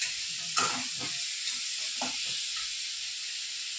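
Potatoes fry in a pan with a steady, close hissing sizzle and a few soft scraping stirs, with no talking.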